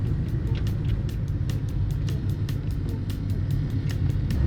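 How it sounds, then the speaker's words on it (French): A 1980s Talbot Samba cabriolet with twin carburettors, its engine running with a deep, steady rumble and a rapid pulsing beat on the move, loud and close with no talking. "on a une super sonorité pour les carburateurs"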